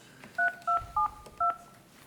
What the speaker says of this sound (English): We think that we're going to have Dara on the regular phone again.